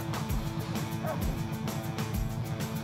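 A dog barks loudly and repeatedly at a passing Yamaha Bolt motorcycle on the road, the sharp barks rising over steady engine and road noise.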